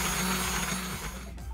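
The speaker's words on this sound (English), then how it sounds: "stick it in there and blend up the soup for about 5 to 10 seconds to blend up the beans" An immersion hand blender whirs steadily as it purees red bean soup with lotus seeds, a loud continuous motor drone with slight shifts in pitch as the blade works through the beans, heard alone at close range.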